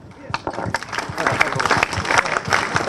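Crowd applause at a Peruvian APRA party anniversary rally, building from sparse claps into dense, sustained clapping with voices and cheers mixed in.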